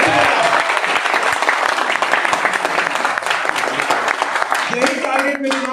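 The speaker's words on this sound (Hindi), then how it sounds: "जोर से ताली बजा" Loud sustained applause from a seminar audience in Bilaspur, Chhattisgarh, dense clapping filling the room throughout, with a voice and some tonal sound entering near the end.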